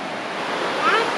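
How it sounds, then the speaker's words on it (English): Water tumbles through river rapids and a series of waterfalls in a gorge, heard as a steady, close, broadband rushing roar with a brief wispy sound over it. "The water drops 12 meters through a series of waterfalls and rapids."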